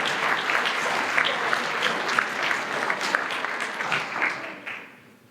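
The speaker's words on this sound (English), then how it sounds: "Let's give him a round of applause." Awards night audience giving a photographer a round of applause, steady and fairly close for several seconds before tapering off into silence at the end.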